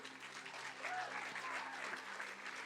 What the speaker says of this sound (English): Can we give him a clap of praise?